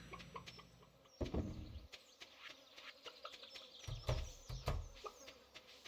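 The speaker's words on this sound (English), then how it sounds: "There's chickens." Chickens cluck faintly on a Stardew Valley game farm, soft scattered clucks and pecking ticks with a buzzing insect-like drone, a few louder bursts mid-way and near the end.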